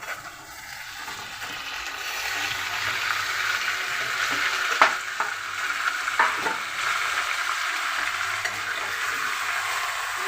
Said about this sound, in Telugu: ఇప్పుడు మనం చికెన్ వేసుకోవాలి.